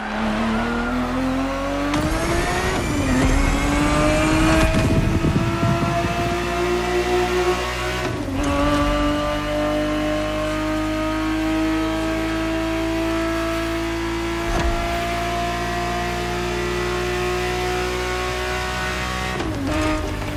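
A Ferrari 365 GTB4 in The Crew Motorfest sends its engine note climbing through repeated rising revs and gear changes, with brief tire squeals between pulls, loud and close throughout.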